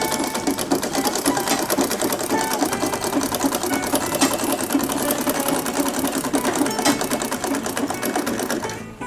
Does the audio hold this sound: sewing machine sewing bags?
yes